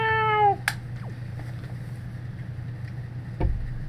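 A cat meows once in Zelda: The Wind Waker HD, a clear harmonic cry at the very start, followed by soft game ambience with a steady low hum and a few faint clicks.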